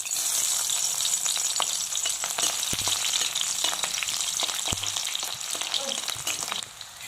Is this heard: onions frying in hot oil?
yes